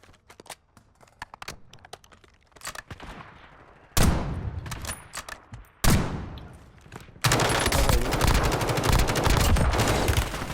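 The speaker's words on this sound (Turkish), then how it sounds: "Vurdum onu yine vurdum bu yine vurdum." Gunfire in a video game comes in sharp bursts and rapid single shots while an enemy is shot down, building to dense sustained automatic fire near the end, loud and close.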